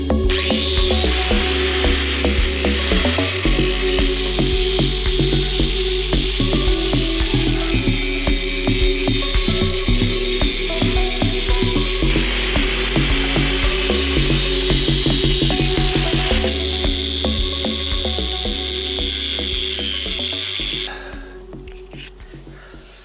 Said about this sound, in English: So I just finished up just rough grinding.